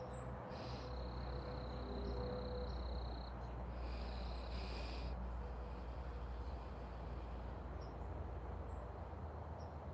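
A steady high cricket trill drones in bursts at night over a low, noisy background, with faint scattered bird chirps, quiet and distant.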